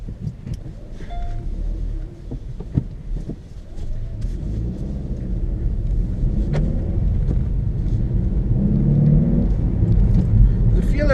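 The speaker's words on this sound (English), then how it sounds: "I'm going to take it a drive now just quickly" A 2016 Kia Pro_cee'd GT on the road, its engine rumbling low and steady with a gradual rise in revs, tyre and road noise filling the cabin throughout.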